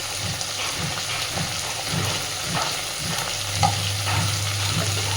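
Spices with chili powder and coriander powder sautéed in oil, a dense continuous sizzle with rhythmic low scraping strokes of a spatula stirring the pan, close and fairly loud, with no voices.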